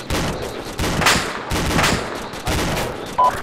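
Rifle fire crackles in a tactical military battle in Arma, with Shack Tactical near Podagorsk. Repeated loud bursts of shots come in bunches at roughly half-second to one-second gaps, close and harsh, over a rumbling background.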